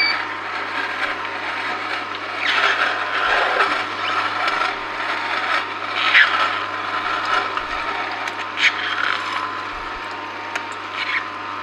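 An Angel juicer presses produce fed in with a pusher, producing a continuous mid-level mechanical grinding and crunching with uneven surges and occasional low knocks, close by and without speech.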